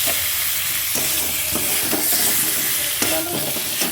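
Spiced potatoes for aloo dum are stirred in a hot pan, giving a steady loud sizzle and hiss with repeated scraping strokes of the spoon, and no voices.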